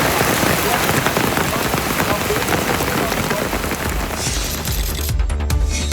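Heavy rain driven by wind during a night storm, a dense, loud, continuous patter and roar filling the whole stretch with no voices.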